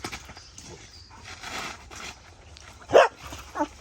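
Pitbull dogs bark outdoors on a rainy day, one loud close bark late on followed by a smaller yip, with softer panting and movement sounds before.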